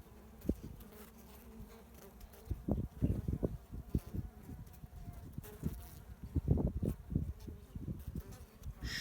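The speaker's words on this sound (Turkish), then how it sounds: "Bakın şurada bir arı çıkışı şu anda gerçekleşiyor." Honey bees buzz close by at a hive frame in a low, fluttering drone, with irregular louder bursts as individual bees move near, a bee emerging from its capped cell, no talking.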